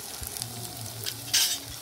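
Hot oil sizzling as salt, turmeric and Kashmiri red chili powder are stirred in a pan for a village-style desi chicken curry, a steady close crackle with scraping strokes and one brief louder hiss.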